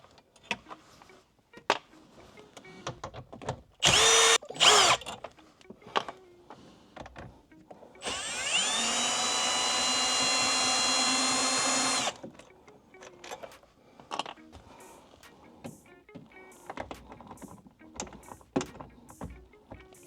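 A power tool backs out 10 mm bolts from the dash of a Toyota 4Runner. A steady whirring run lasts about four seconds, with a short earlier burst, and small clicks and handling noises fill the gaps.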